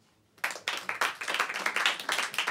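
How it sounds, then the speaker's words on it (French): Sparse applause from the married people in a comedy show audience, a thin scattering of individual hand claps in an uneven rhythm, fairly close and alone after a short quiet start. "t'entends la tristesse de l'applaudissement, comment il est triste?"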